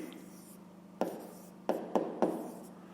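A pen writes on paper in a maths lesson, several short scratchy strokes in quick bursts over a quiet room tone, with no talking.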